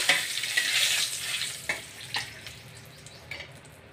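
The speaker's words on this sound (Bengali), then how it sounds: "এখন আমি তরকারির জন্য ফোড়ন দিয়ে দিচ্ছি" Whole spices and dried chillies, cinnamon, cardamom and bay leaf, sizzle in hot oil for a curry, a soft crackling hiss with a few sharper pops, settling quieter toward the end.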